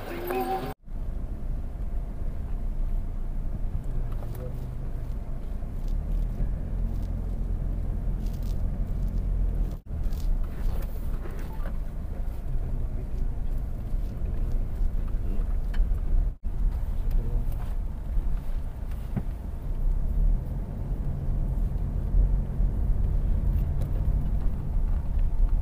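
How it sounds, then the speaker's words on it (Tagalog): Steady low engine rumble from inside a moving vehicle on a mountain trip, continuous and fairly loud throughout, with occasional faint voices beneath. "Yan, sasakay na po kami sa sasakyan."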